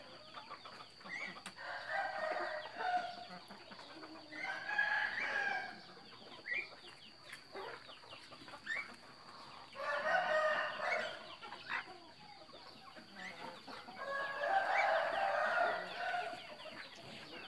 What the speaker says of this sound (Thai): ไก่ป่านะครับพวกนี้